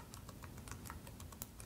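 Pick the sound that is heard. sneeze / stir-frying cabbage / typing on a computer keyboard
typing on a computer keyboard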